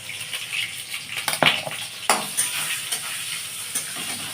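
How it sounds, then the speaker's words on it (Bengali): Green mango and turmeric stirred into simmering dal, with close spatula scrapes and clanks against the pot over a soft bubbling sizzle, in uneven bursts with no talk. "এই যে আমটা দিয়ে দিচ্ছি এর মধ্যে, আম দিয়ে দিল।"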